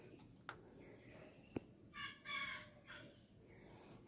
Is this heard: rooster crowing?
yes